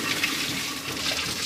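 Water rushing and gushing steadily out of a car radiator as it is flushed to clear out rust, a continuous loud splashing flow with no talk.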